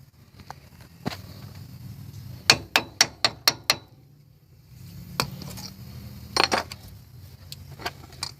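Sharp metallic hammer taps on a part of a 2003 Ford Explorer wheel hub during a wheel bearing or CV joint job, a quick run of about six close, loud strikes plus a few scattered knocks.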